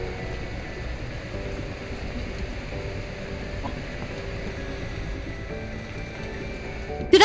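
Video-game rain in a family-friendly mystery game, a soft, steady hiss of falling rain heard alone at low volume, ending in a brief louder thump at the very end.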